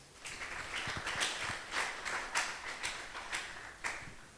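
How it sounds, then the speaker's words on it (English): Scattered hand claps from an audience at a Petroleum Authority of Uganda event, quiet and somewhat distant, with a loose, uneven rhythm that swells slightly in the middle. "Let us give them a round of applause."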